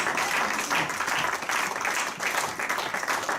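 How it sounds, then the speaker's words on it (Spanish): A church congregation claps in rhythm for Jesus during a Spanish-language service, steady loud applause with pulsing beats and no voices over it. "Dale palmas a Jesús."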